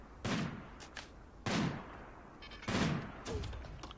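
Gunfire in the colony game Rimworld sounds as three sharp, booming shots roughly a second apart, each with a trailing decay, plus a lighter pop near the end.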